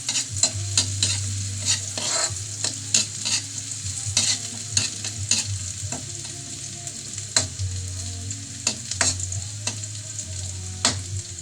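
Onions frying in a pan for papaya adobo, stirred continuously, giving a steady close sizzle broken by frequent sharp scrapes and clicks of the utensil against the pan.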